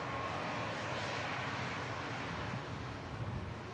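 Airliner at Manchester Airport on the runway, a steady loud broadband engine roar that holds evenly throughout with no voices.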